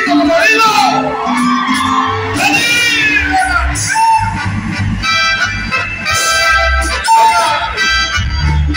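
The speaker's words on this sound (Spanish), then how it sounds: "aviéntese un pinche grito" A Mexican grito rings out as a long, whooping shout over loud Tierra Caliente band music, with a voice rising and falling above the dense accompaniment.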